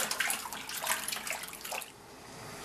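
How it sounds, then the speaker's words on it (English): Two gallons of filtered water pour vigorously into a fermenter for fig mead, a steady splashing gush that cuts off sharply near the end, leaving a quieter trickle and hiss. "We're going to just be adding in 2 gallons of water to this."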